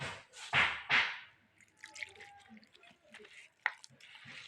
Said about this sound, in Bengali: কিছুক্ষণ ধরে বেসনটাকে গুলিয়ে নিয়েছি ভালো করে